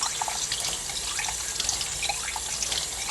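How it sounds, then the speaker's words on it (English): Tap water runs steadily as a black powder pistol barrel is rinsed with the muzzle pointed down, giving a continuous splashing hiss with faint drips, close and without voices. "But I just want to rinse out that barrel."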